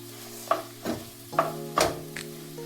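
Mushrooms are stirred into a pan of paneer butter masala: several distinct spoon scrapes and clinks over a soft, low sizzle, with a steady faint hum behind.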